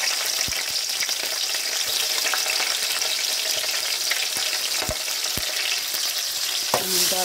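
Green chillies frying in hot oil for an Andhra fish curry, a steady bright sizzle with a few sharp ladle taps and a clink near the end.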